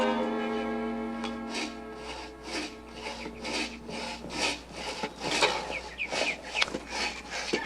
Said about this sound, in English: Oh, roosters!